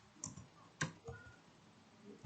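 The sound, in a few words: typing a command on a computer keyboard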